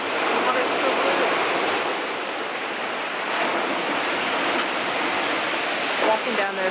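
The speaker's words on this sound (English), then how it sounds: "This, yeah, look at these waves." Ocean waves crash and wash continuously onto a tiny beach in Monaco, a loud broad roar of surf with wind buffeting the microphone throughout.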